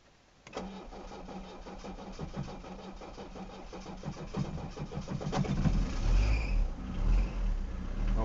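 A diesel engine fuelled on waste vegetable oil cranks and fires after glow-plug preheating, then settles into a steady, close idle that swells slightly louder toward the end.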